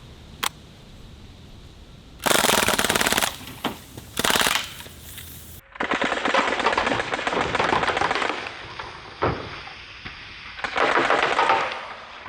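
A full-auto BB gun fires rapid bursts at 12-ounce soda cans, each burst a dense rattling clatter lasting a second or more, with a few single sharp cracks between them, close and loud.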